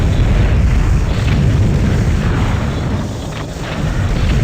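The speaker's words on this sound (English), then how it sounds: "watch me destroy these walls for a minute" Loud, dense booms roll on continuously as buildings and walls explode and collapse in the Battletanx Global Assault video game, a heavy barrage with hardly any pause.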